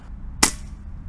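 A single sharp pop comes from an airsoft gun fitted with an RTI assisted valve. It is a short, close, loud crack with a quick fade, heard alone.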